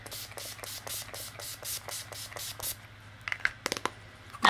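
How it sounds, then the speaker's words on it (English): Urban Decay setting spray misted over a face: a quick run of about ten short even spray bursts, then a few scattered clicks and handling sounds, close and with no talking. "I'm just going to take that Urban Decay setting spray and spray this all over my face"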